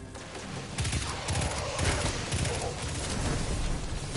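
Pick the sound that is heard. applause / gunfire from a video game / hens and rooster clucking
gunfire from a video game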